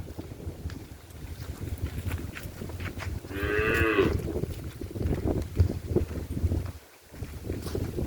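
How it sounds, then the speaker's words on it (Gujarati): A cow gives one long, low moo in the middle, nearby, over steady wind rumble and faint outdoor noise. "15 ઢોર છે. જોઈ લો, ગણ લીજો."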